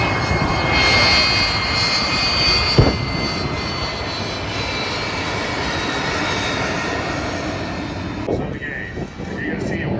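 Aerobatic airplane diving in from one side at a military air force base air show, a loud sustained engine roar with a brief sharp peak near the start, while an announcer talks over the public address.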